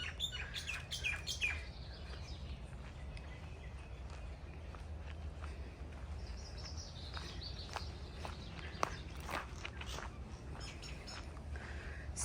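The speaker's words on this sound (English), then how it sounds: "See you later, birds." Birds chirp and tweet repeatedly at varying distances in Manukau Botanical Gardens, Auckland, New Zealand, in the early morning, over a low ambient hum and the soft, steady footsteps of someone walking.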